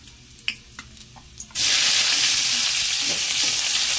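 Onion and ginger sizzle loudly in a hot pan for a fish sinigang with mustard, a steady dense frying hiss after a few quiet clinks at the start.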